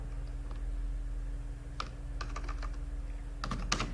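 Fingers type on a computer keyboard during a beginner computer class, with quiet, irregular clusters of key clicks over a steady low electrical hum.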